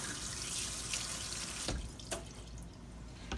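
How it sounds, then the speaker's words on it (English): Tap water runs into a kitchen sink while celery is rinsed, a steady close splashing rush that briefly breaks into drips and splatters before flowing again. "So, let me rinse this off a little."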